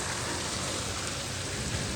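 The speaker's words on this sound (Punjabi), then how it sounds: "ਬਾਰਿਸ਼ ਬਹੁਤ ਹੈਵੀ ਹੋਣ ਲੱਗੀ" Heavy rain pours down steadily in a village on a rainy day, a dense, even hiss of water striking surfaces with no voices present.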